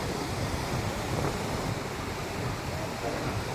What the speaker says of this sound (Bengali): কি ঠান্ডা বাতাস, ইচ্ছে করে এখানে ঘুমিয়ে পড়ি।